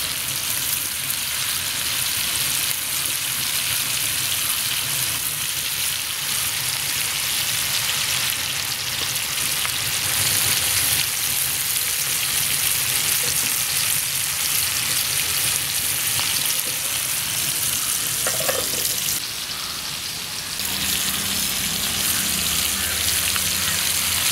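Avoli fish sizzles and spits in a frying pan, a loud, steady crackle of hot oil that runs unbroken, with a brief dip near the end.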